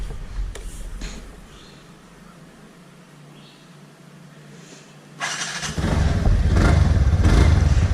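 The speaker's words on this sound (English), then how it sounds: "So this is how the exhaust sounds." A TVS Ntorq BS6 scooter engine idles quietly, then its exhaust bursts into a loud, rasping rev that holds steady near the listener.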